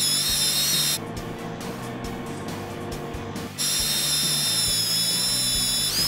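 A Fein Slugger magnetic drill motor hums with a steady high whine, drops to a lower, rougher grind for a few seconds while cutting steel, then returns to the whine.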